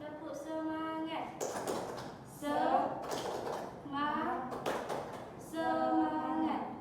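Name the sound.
children clapping the 'tepuk semangat' clap chant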